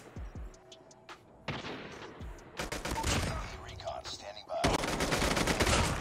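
Gunfire from the mobile shooter Call of Duty Mobile, fired with an MW11 weapon: scattered single shots at first, then dense, loud bursts of rapid fire that continue to the end.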